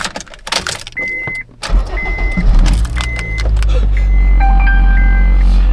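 Honda Fit engine on solid engine mounts, a steady low drone and vibration that swells after a loose, jangling start and then holds loud and close, with a few high tonal beeps over it.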